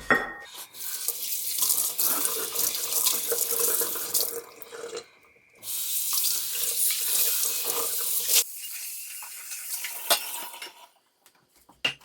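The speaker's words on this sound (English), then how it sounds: "I'm just going to do a quick rinse off to make sure we don't have any salt residue." Tap water runs into a sink as cast iron pans are rinsed, a loud close splashing rush that briefly stops twice and then fades. Faint clinks of the pans sound beneath it.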